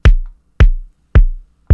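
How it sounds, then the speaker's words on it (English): A soft, muffled kick drum with filtered overdrive, programmed in FL Studio, thumps four times in an even beat, each hit deep and boomy with a short decaying tail and the harsh highs rolled off. "So just turning up that filter all the way will give it a more muffled feel and save your ears later on."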